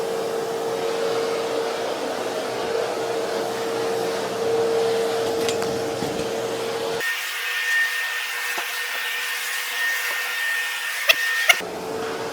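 A vacuum cleaner runs steadily while cleaning a room in a building with an operating room, a continuous motor drone whose pitch jumps higher partway through, with no talk.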